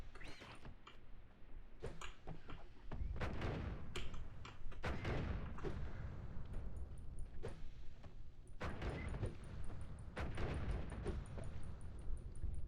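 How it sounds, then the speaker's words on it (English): Repeated bomb blasts in the roguelike game Noita, a string of sharp bursts about a second or two apart with rumbling tails over a steady background hum and faint crackle, no talk. "you can just drop bombs forever now"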